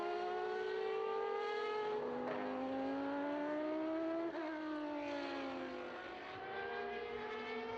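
A 1990 McLaren MP4/5B Formula One car driving at a racing event, its high-pitched engine wailing loudly and steadily, rising and falling through gear changes and revs, with no talking.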